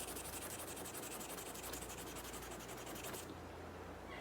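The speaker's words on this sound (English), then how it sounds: "Take a piece of 400 grit sandpaper, rub it across," Fine 400 grit sandpaper rubs steadily across an oxidized metal guitar part, a continuous close hiss of rapid back-and-forth scratching that stops abruptly near the end.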